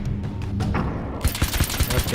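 A nail gun fires in Alan Wake's American Nightmare video game as a quick burst of punchy, repeated thudding shots. The shots land close and loud over game background noise, with a voice faintly talking.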